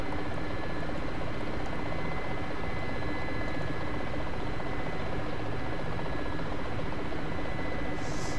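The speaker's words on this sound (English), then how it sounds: "The Mi8 is such a nice helicopter to fly." A Mi-8 helicopter in the DCS flight simulator produces a dense, continuous rotor and engine roar with a faint steady whine, loud and unchanging throughout.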